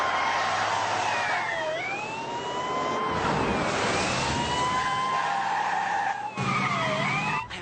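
A loud, close vehicle siren wailing in rising and falling sweeps, with tyre skids and engine noise beneath it and a brief cut before the wail resumes.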